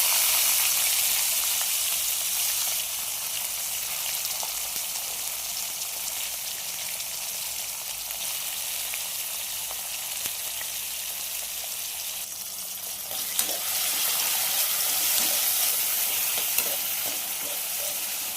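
Tomatoes fry in a pan for dal dhokli, a continuous close crackling sizzle with faint stirring ticks, growing briefly louder and more spattery partway through.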